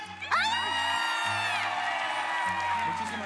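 Sapucai, the traditional Paraguayan shout, rings out as a long, loud, high, warbling cry over a crowd at a folk music final, whoops and cheering carrying on beneath it.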